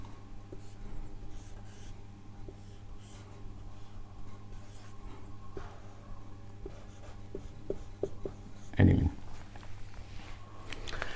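Pen scratching chemical formulas on paper or board during a chemistry lesson on amines, soft scraping strokes through the clip with a louder rub near the end, under quiet room noise and brief talk.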